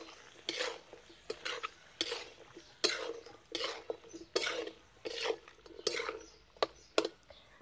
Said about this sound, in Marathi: हे बघा चांगले मिक्स करून घेऊ.